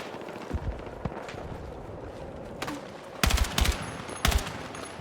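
Gunfire from weapons in the shooter Battlefield crackles in scattered shots, then sharper close bursts in quick clusters toward the end, over a low background bed of game noise.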